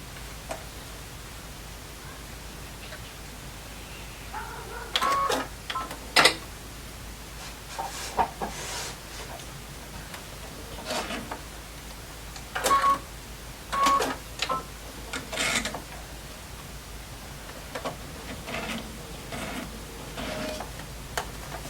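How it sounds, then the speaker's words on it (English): A home sewing machine stitches lines on a fabric drawstring bag, running in several short bursts of rapid mechanical whirring separated by pauses, fairly quiet and close, with no talk. "Now I'm going to take this over to the sewing machine, and we're going to stitch those 2 lines."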